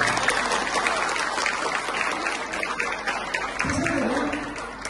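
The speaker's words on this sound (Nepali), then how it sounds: "ताली बजाएर धन्यवाद दिनेछौँ।" Audience applause at a church youth thanksgiving conference, a dense, sustained burst of clapping from a crowd that stays loud throughout, with a voice briefly heard near the end.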